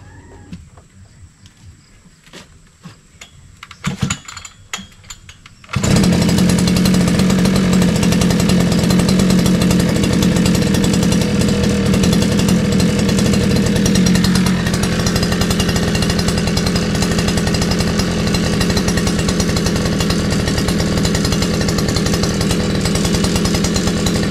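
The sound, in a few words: grass cutter (brush cutter) engine running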